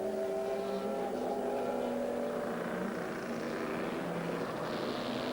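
Audi and Panoz prototype race cars battling on track in 2000 American Le Mans Series racing, engines whining and shifting pitch as they pass, moderately distant and continuous.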